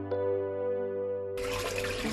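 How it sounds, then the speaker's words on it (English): Milk poured from one large drum into another at a yogurt-making workshop, a steady liquid rush that swells into a broad, loud splashing gush near the end, heard alone without talk. "pouring milk from one drum to the other to start their work"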